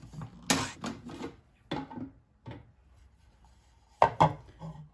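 Garlic cloves being mixed for a classic pesto: a few separate bursts of scraping and knocking, close and moderately loud, with quiet gaps between them and no talking.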